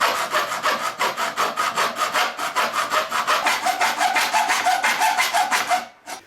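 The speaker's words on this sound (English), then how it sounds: "it means I gotta hacksaw some slits into the aluminum." A hand hacksaw cuts a slit into an aluminum Yagi antenna tube in about two dozen quick, even back-and-forth strokes, loud and close, before stopping abruptly.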